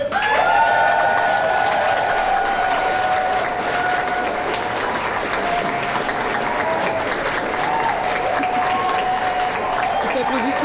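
Crowd applauding and cheering at a Christmas event in Magic Kingdom, a broad sustained roar of clapping and voices, with sustained musical tones running underneath.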